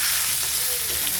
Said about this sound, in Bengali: বেগুনটা একটু সময় ভেজে নেব।